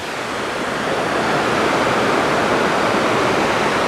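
Sojeongbang waterfall on Jeju, South Korea, a loud, steady, broadband roar of falling water filling the whole clip without pause.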